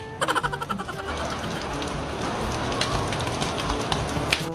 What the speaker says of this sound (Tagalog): Ate Bedang, ligo na tayo ng ulan.